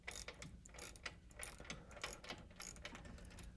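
A ratchet wrench loosens the four U-bolt nuts on a Chevy S10 muscle truck during a rear suspension job, giving rapid, close metallic ratcheting clicks in quick bursts throughout.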